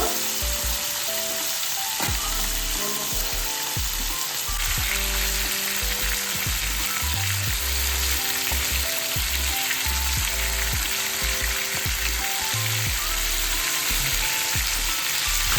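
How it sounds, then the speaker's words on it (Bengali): Pieces of rohu fish fry in hot oil in a pan for a Bengali fish curry, giving a loud, continuous sizzle with occasional stirring scrapes and no talk. "মাছগুলি ভেজে নেব।"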